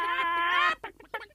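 Cartoon hens flap and cluck in a bright, close burst of overlapping calls, then scatter into a few shorter squawks that fade off.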